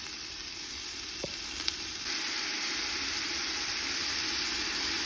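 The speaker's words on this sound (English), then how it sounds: "Now that sizzle, this is probably one of my favorite smells cooking in the kitchen." A steady, loud sizzle of onions and garlic frying in a hot pan, continuous throughout with a couple of faint clicks early on.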